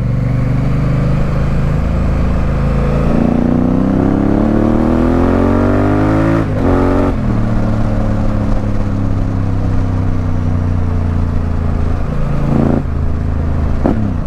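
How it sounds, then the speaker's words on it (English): A Honda Africa Twin motorcycle engine revs loud and close, its pitch climbing steadily through a gear, dropping sharply at a shift, then holding a strong steady drone with another brief dip near the end. "the bike is sounding absolutely glorious"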